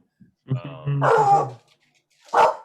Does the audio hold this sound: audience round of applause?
no